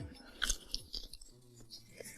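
Crunchy cucumber being chewed close up, with soft wet crunches and bites repeating irregularly at low volume and faint background murmur.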